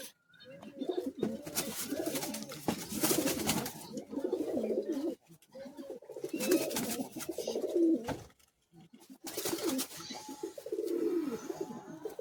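Racing pigeons at the Bagnan pigeon club coo close by in repeated throaty bursts, several birds overlapping in waves separated by brief pauses.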